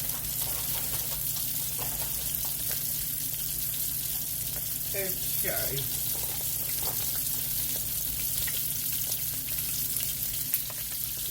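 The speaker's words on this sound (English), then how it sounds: "The chicken frying." Chicken sizzles steadily in a frying pan, a constant close crackle and hiss running throughout, with brief clinks of kitchen utensils and a short spoken word partway through.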